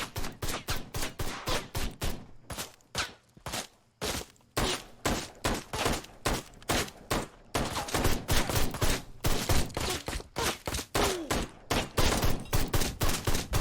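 Enemies in the video game Ride to Hell: Retribution fire guns in sustained rapid volleys. Sharp shots crack in quick bursts with brief gaps, continuing loudly throughout.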